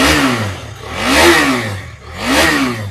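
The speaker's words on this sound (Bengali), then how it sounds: "গাড়ির জাস্ট সাউন্ড, একটু সাউন্ডটা শুনে দিলে খুব ভালো হতো গোপালদা।" A second-hand motorbike engine revs in three rising and falling surges, each climbing to a loud peak before easing back, close by with no voices.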